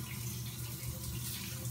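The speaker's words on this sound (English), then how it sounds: "let's go ahead and turn the water on." Shower water running, a steady broadband hiss of spray with no talking over it.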